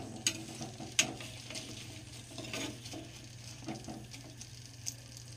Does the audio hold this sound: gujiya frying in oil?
yes